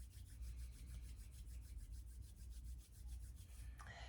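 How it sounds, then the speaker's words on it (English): Palms of the hands rub briskly together during a gentle hatha yoga session, a close, steady run of rhythmic swishing strokes heard alone in a quiet room. "Rub the hands together"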